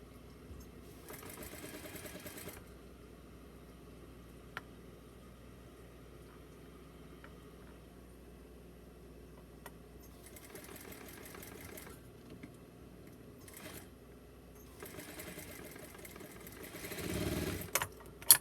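A sewing machine stitches a doll romper, running several straps into one seam in bursts of rapid whirring stitching separated by quiet pauses. The last burst is the loudest and is followed by a brief clunk.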